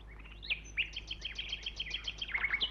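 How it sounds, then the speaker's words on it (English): Nightingales singing high in the treetops, a run of quick, clear chirps and rising whistled notes repeated in bursts, moderately close and heard alone. "All around them, in the tops of the trees, the nightingales were singing."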